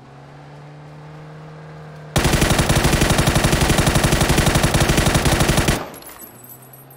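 Automatic gunfire in the game PUBG comes as one loud, sustained rapid-fire burst lasting a few seconds, each shot hammering out in a tight rhythm before it stops abruptly.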